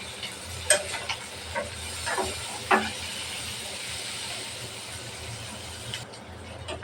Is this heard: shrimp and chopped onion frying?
yes